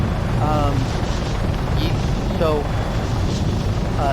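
A helicopter in the video game Arma 3 gives off a constant, loud rotor and engine drone, with someone talking over it throughout.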